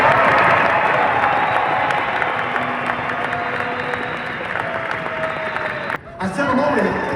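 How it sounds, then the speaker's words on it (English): Sustained audience applause for construction management student competitors, a dense wash of clapping with some crowd noise that holds steady for about six seconds, dips briefly, then resumes under a voice. "Let's give all of our competitors one more round of applause."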